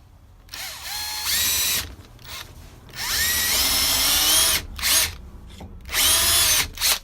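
A power tool whirs in repeated bursts while working slimline pen blanks with glued-in inserts, its whine rising and falling in pitch between short pauses, close and fairly loud.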